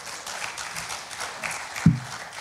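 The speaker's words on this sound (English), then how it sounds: "we can clap for that" A congregation in a church sanctuary applauds, a dense wash of many hands clapping at moderate distance, steady throughout the brief burst.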